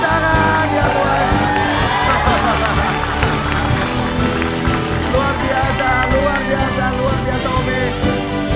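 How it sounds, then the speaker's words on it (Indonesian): A studio audience at a television game show keeps up sustained, dense applause with scattered whoops as a contestant celebrates winning the top prize. Voices are heard within the noise. "Berikan tepuk tangan ya buat"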